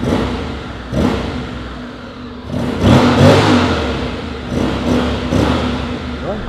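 A 2023 Honda X-ADV 750 special edition scooter runs on its stock exhaust, a quiet, smooth engine hum that swells in a few gentle rises while other low rumbles come and go.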